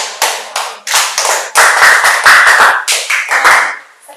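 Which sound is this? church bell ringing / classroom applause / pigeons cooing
classroom applause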